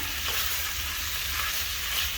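Eggs and softened celery fry and get stirred in a pan for fried rice, giving a steady close hiss of sizzling with light scraping, no voices.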